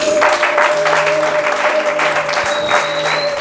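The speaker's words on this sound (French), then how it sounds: "Acclamons pour la voix de notre Dieu." A church congregation applauds during a French-language service, with loud, sustained clapping from a large crowd that holds steady throughout.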